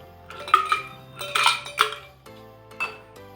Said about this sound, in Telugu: కొద్దిగా ఐస్ క్యూబ్స్ వేసుకోవాలి.